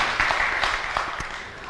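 An audience claps briefly during a talk, a short muffled burst of applause with a few sharper hand claps, fading out within two seconds.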